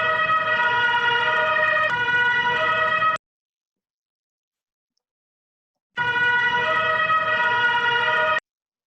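A steady siren wails loudly for about three seconds, cuts to silence, then sounds again for a few more seconds.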